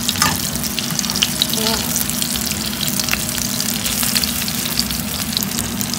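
Beef intestines (daechang) grilling at home in a pool of rendered fat give off a loud, steady, crackling sizzle with scattered pops that fills the whole stretch without pause.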